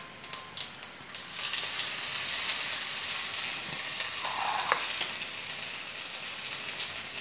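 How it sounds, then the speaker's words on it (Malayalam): Mustard seeds and curry leaves splutter in hot oil in a pan for an egg thoran, a steady frying hiss with scattered crackles and pops after a few sharp clicks at the start. "അപ്പോൾ നമ്മുടെ കടുക് ഇങ്ങനെ പൊട്ടി വരുന്നുണ്ട്."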